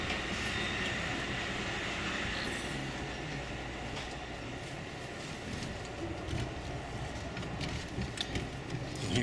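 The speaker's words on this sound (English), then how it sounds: "This is the lower level of an Amtrak Superliner." Steady rumbling roar inside the lower level of a moving Amtrak Superliner car on the California Zephyr, with constant wheel and track noise and occasional faint clicks and rattles throughout.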